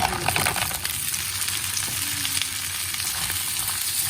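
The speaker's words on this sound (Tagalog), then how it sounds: "Igisa ang halaan." Clams sautéing in a hot pan with ginger and salt, a steady close sizzle with scraping stir noises running throughout.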